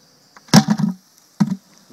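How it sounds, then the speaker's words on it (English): A sharp bang on the bucket holding a honeybee nuc hive gives a loud thump with a short rattling tail, then a second, smaller knock about a second later, against a faint insect hum. "give it one good sharp bang"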